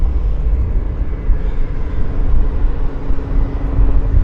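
A WestJet airliner rolling for takeoff at Vancouver airport, a steady loud low-frequency engine roar with broadband rumble that holds constant throughout, with no voices over it.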